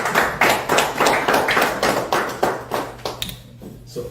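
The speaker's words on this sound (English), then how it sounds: "You can clap if you want to clap." An audience claps at a Houston real estate book launch, a steady patter of many hands in quick, even bursts that fade slightly toward the end.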